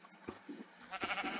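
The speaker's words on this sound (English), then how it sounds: "Cool, it's a pink sheep." A pink sheep in the video game Minecraft gives a few short, faint bleats in quick succession, alone and without talk.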